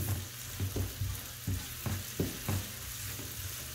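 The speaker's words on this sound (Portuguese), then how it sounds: "Deixar essa cebola dar uma douradinha, uma murchadinha aqui." Chopped onion sautéing in a hot pan, with a steady soft sizzle and several brief stirring scrapes at irregular intervals, close and fairly quiet.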